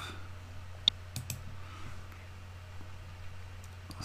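Computer mouse clicks on a desk while operating windPRO road construction software, a few sharp isolated clicks spread over several seconds, close and quiet, with faint keyboard-like ticks in between.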